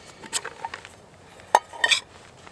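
A metal billy can holding stew ingredients is opened outdoors, giving a few sharp metallic clinks and light rattles in a brief quiet moment.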